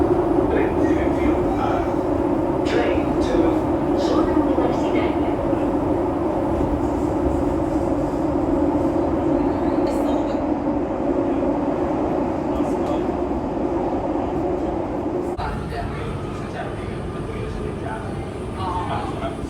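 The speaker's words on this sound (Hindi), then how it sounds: "हर 12 मिनट में यहाँ से मेट्रो ट्रेन जाती है।" A metro train rumbles steadily through a Barcelona station, a continuous loud roar with a high whine above it, while people talk underneath.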